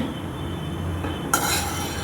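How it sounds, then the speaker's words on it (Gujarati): A spoon scrapes and stirs sev khamani in a pan over low heat, soft steady scraping with a brighter clink and hiss near the end, close and alone. "ધીમે ધીમે ચમચીથી હળવા હાથે હલાવવાનું."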